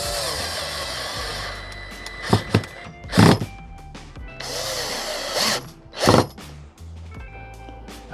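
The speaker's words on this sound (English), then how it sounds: "we're gonna drill it in anyway" A power drill drives a screw into wood through a cheap pocket hole jig, heard as a continuous whirring buzz broken by several heavy thunks and bursts of grinding, close by.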